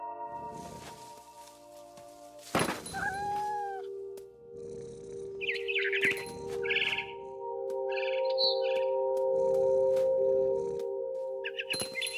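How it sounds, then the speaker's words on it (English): A frightened barn swallow in What Remains of Edith Finch gives several quick bursts of high chirps, scattered across the middle of the clip over steady, droning game music. "Then I heard chirping outside my window. It was a barn swallow going back to her nest."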